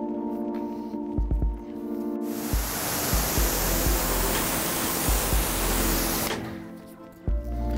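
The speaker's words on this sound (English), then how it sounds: "So now we want to start by rinsing that surface." A car wheel is rinsed with a water spray during detailing, a steady loud hiss that runs for several seconds between short bursts of machine hum.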